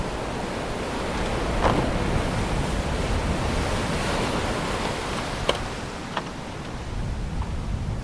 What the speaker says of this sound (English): No engine, just the sounds of the wind